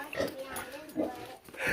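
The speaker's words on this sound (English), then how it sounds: "I'm gonna show you this pig over here first" A farm pig grunts in short, close snorts under someone talking, on a silvopasture during spring farrowing.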